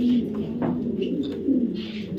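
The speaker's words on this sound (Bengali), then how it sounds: "পিসিডি ক্লাবের একটা নর কবুতর" A male racing pigeon from a PCD club coos nearby in a low, soft, repeated murmur, steady and close throughout with faint background noise.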